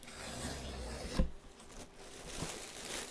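Cardboard and packaging rubbed and slid while unboxing a Gigabyte TRX40 Designare motherboard box, with steady rasping scrapes and a sharp thump near the middle, fairly quiet and without talk.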